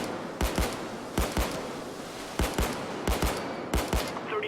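Gunshots in Payday 2, firing in a rapid series of sharp, loud cracks grouped in short bursts of two or three, with brief gaps between the volleys and no talking.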